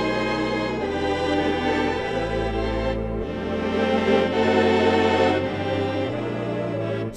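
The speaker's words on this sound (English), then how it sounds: "So it's a pipe organ, but not in the church, in theaters." Theater organ voice played on a Yamaha Tyros 5 arranger keyboard, sustained rich chords with shifting bass notes, loud and continuous without talk.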